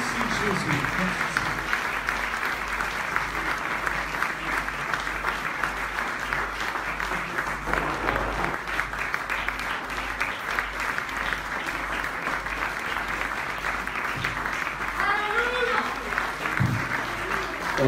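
A church congregation gives sustained applause, a dense and even clapping that lasts throughout, with voices calling and talking over it.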